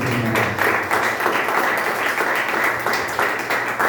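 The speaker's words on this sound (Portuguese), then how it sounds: "Aplaude bem forte o Senhor Jesus Cristo." Loud, sustained applause from a crowd at a Christian worship gathering, dense and steady clapping filling the whole stretch.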